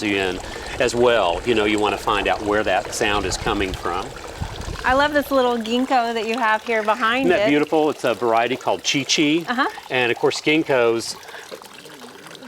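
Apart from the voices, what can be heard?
garden water feature trickling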